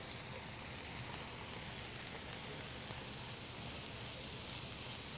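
Diced trinity vegetables cooking down in a pan, a soft, steady sizzle and hiss with no breaks, faint and close.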